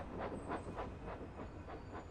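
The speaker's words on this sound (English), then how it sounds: "As dusk fell, Thomas brought his last train to the big station." A toy steam engine pulls a train into a station with an even, rhythmic chuffing and clatter, about four beats a second, steady and moderately faint with no voices.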